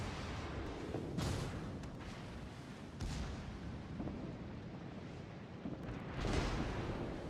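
Battleship guns firing in World of Warships as the player targets the Colorado: several deep, rumbling booms spaced a few seconds apart, rolling over a continuous low roar of game ambience.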